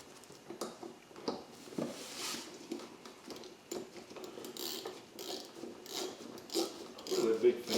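Ratchet clicks while Ford speed nuts are snugged down on an interior panel, bursts of mechanical clicking close by with faint handling noise between them.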